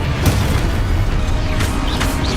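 A Confringo blasting spell goes off in Hogwarts Legacy, a loud, continuous low rumbling boom with crackling bursts layered over it, sustained through the whole short stretch without a clear pause.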